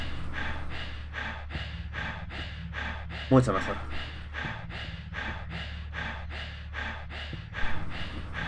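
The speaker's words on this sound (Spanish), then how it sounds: "Que me esté jadeando la puta perra en el oído derecho, pues me molesta un poco." A creature in the game Silent Hill 3 pants rhythmically and steadily in the right ear, a close, continuous series of breathy huffs, with a brief voice speaking over it partway through.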